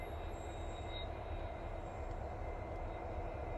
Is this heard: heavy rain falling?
no